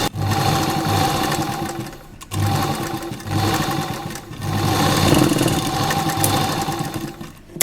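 A sewing machine stitches two pieces of fabric together, running in loud steady bursts with short pauses between, close and alone.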